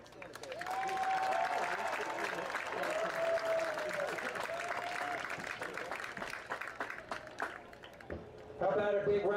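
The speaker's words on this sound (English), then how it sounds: "How about a big round of applause for all of our band seniors" Crowd at a high school football game applauding band seniors, sustained clapping and crowd noise with a public address announcer talking over it.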